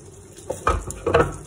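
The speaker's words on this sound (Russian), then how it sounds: "хватит, хватит выкипать мне там" Sauce boiling over in a pan on a stovetop set to level six, giving a few clattering, sputtering bursts with hissy splashes, fairly close, with no talking.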